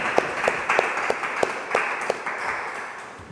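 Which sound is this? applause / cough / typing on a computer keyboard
applause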